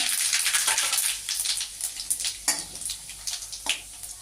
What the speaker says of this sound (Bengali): তেল গরম হয়ে গেছে এবার আমি ফোড়ন দিয়ে দেবো এই শুকনো লঙ্কা দিয়ে দিলাম এই পাঁচ ফোড়ন দিয়ে দিলাম তেজপাতা